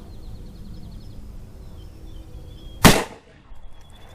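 A single sharp gunshot from a Ruger Redhawk Alaskan revolver loaded with S&B small rifle primers cracks out over a quiet room, followed by a brief fading echo.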